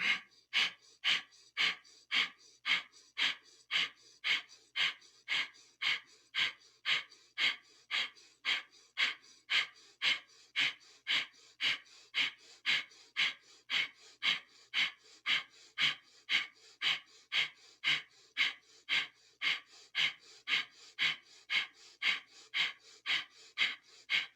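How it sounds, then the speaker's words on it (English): Rhythmic breathing through the nose during a Kundalini yoga back-strengthening exercise, forceful, close and evenly paced, roughly two sharp breaths per second sustained throughout, with no talking. "breathing through the nose"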